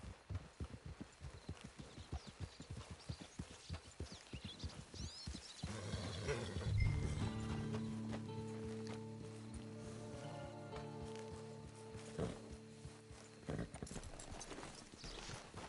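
Horse hooves clip-clop in a quick, steady rhythm in the video game Red Dead, then fade as sustained tonal music swells and carries on to the end.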